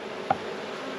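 Honeybees in an opened hive during a January inspection give a steady, close buzzing drone with one brief louder bump early on.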